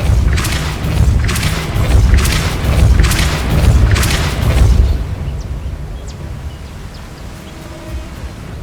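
Five heavy, booming Depulso spell blasts from the Hogwarts Legacy video game thud in a steady rhythm over about five seconds, each loud and rumbling, before fading to a quiet ambient hum.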